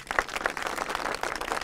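Crowd applause and clapping at an outdoor gathering in Algeria, dense broadband claps sustained across the whole short stretch at a fairly even, moderate level with no voices standing out.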